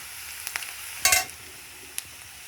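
Onions and spices frying in a pan on a home stove while cooking a Bengali fish curry, a soft steady sizzle with a few light clicks and one brief louder stir-scrape near the middle, no voices.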